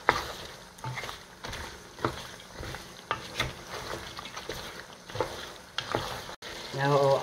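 Onion, garlic and coriander fry in a pan, a close sizzle broken by repeated scrapes and stirs that come every second or so, with a brief voice near the end.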